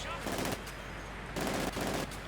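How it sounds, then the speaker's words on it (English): Gunfire and grenade blasts in a Company of Heroes 2 1v1 match, two bursts of loud crackling fire and explosions over a constant battlefield rumble. "grenades are being exchanged in a slightly unpleasant cultural exchange program"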